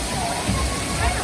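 Nkyeraa waterfall in Ghana pours in a loud, continuous rushing roar with sloshing water, dense and close, with faint voices mixed into the roar.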